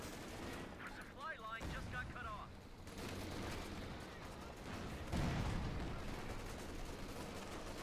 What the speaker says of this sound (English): A lot of shooting here, a lot of back and forth.